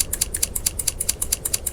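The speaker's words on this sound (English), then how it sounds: "am using wire cutters" Wire cutters are used to trim hair in a close, quiet ASMR setting, giving a rapid, steady run of crisp snipping clicks, around a dozen in under two seconds, with no talking.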